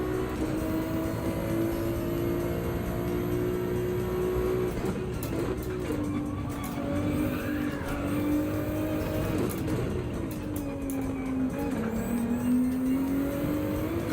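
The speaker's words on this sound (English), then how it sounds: "This is maximum pace with this Ferrari right now for me." A Ferrari Group 3 race car engine in a racing video game at Brands Hatch drones steadily and close, its pitch rising and falling through gear changes and corners. Faint tire squeal runs under the engine, with no talk.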